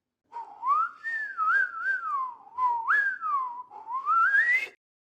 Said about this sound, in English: listen to the melody several times until you can whistle the runs around the melody